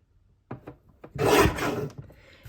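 A paper trimmer cuts through cardstock, a few soft taps followed by a single close, rasping slide of the blade lasting about a second.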